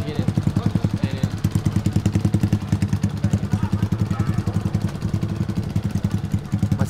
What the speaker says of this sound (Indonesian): udah pindah pakai motor